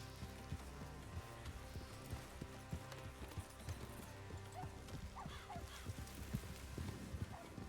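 Horse hooves clip-clop in a video game, a quiet, continuous patter of hoofbeats over low background rumble, with a faint whinny-like cry partway through.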